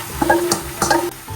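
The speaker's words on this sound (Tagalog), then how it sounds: "Lagyan na natin yung chicken na minarinate natin kanina ng ating mix." Marinated chicken going into a frying pan for chicken biryani produces a couple of clattering knocks and scrapes over a moderate sizzle, close and fairly loud, with no talking.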